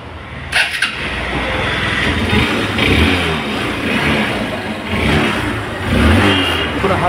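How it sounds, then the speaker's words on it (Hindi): A Bajaj CBZ Xtreme motorcycle engine with a pickup or smoking problem catches after a brief half-kick start and settles into a steady, close idle with slight rises in revs. "पूरा हाफ सेल में गाड़ी चालू हो रहा है, देखिए पूरा पूरा स्मूथ हो गया इंजन"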